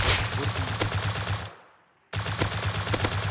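Rapid automatic gunfire from an M249 in the survival game Rust, a dense burst of loud shots that cuts off for about half a second, then resumes as another close, sustained volley.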